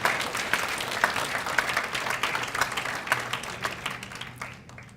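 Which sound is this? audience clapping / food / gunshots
audience clapping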